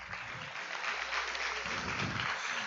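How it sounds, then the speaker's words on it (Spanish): Applause for Napo at a church gathering, a dense, even patter of many hands clapping in a hall, moderately faint and sustained across the moment with no voices. "Vamos a darle un aplauso a Napo"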